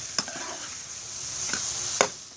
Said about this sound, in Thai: ผัดไปเรื่อยๆน้ำของแตงกวามันจะออกมาเองครับ